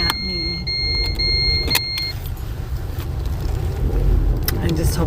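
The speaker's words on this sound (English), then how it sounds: "my trusty little car is beeping at me" A small car sounds a repeated high electronic beep, several short tones close together in the first couple of seconds, over low road and engine rumble.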